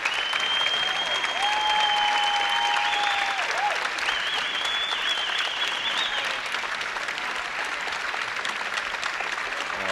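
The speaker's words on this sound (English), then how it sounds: "Standing ovation." Spectators give a standing ovation at an intercollegiate team championship bowling match, producing sustained dense applause that fills the room, loud and steady, with a whistle and faint cheering over the top.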